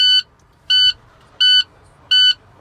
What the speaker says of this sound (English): the alarm is working.